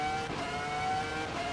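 The Ferrari F2004 Formula 1 car's engine screams at a sustained high pitch in Assetto Corsa Evo, a loud, continuous on-board wail with slight revving fluctuations and no voices.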